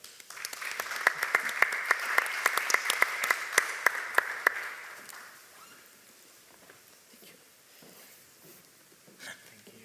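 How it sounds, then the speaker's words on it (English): Audience applause at a sports innovation summit, loud rapid clapping with sharp individual claps for about five seconds before fading to scattered claps and room noise. "a big round of applause"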